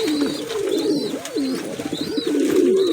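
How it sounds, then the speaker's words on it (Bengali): A male golden Pakistani beat pigeon coos close and loud in a steady run of throaty, bubbling coos, with faint higher chirps over them and no voices. "পিছনে একটা নড় আছে বকছে"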